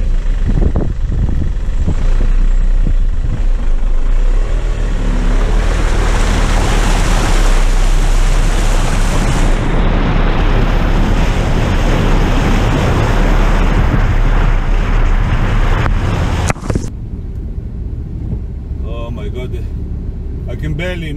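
A small Audi A2 car pushing through deep flood water, with loud rushing, sloshing water and engine noise that ends in a sudden cut near the finish, voices talking over it.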